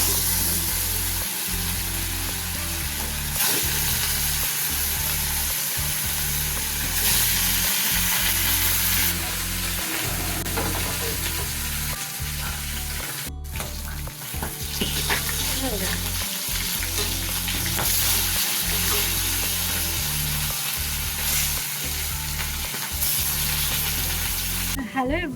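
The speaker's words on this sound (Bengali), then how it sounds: "আর এখানে বাকি চলো মাছগুলো ভাজি" Fish frying in a pan, a loud, dense, continuous sizzle and crackle lasting the whole stretch, close by, with occasional brief dropouts and no clear voices.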